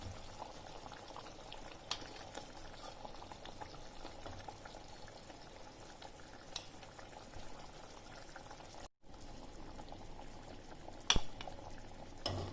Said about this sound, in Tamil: நல்லா கொதிச்சு வந்துருச்சு.